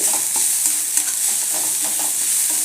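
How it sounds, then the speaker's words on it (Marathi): Garlic and green chilies for thecha sauté in hot oil, giving a steady close sizzle with the repeated scrape and knock of a spoon stirring the pan. "एक दोन मिनिटं असं परतून घ्यायचं व्यवस्थित म्हणजे लसूण मिरची वगैरे तेलात व्यवस्थित परतली जाते"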